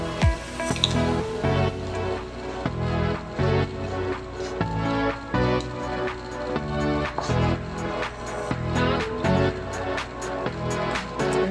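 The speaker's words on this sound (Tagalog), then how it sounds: "Ilagay na natin lahat ng tubig saka haluin ng mabuti." Breadcrumbs and water being stirred by hand for banana donut batter, wet squishing and dripping strokes in a steady repeating rhythm, close and clear with no talking.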